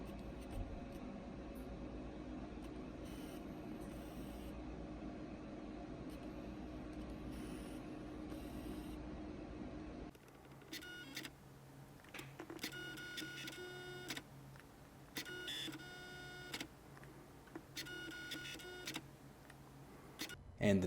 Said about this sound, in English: how much noise can be picked up from the camera when you're using the lens if you decided to use the audio from the camera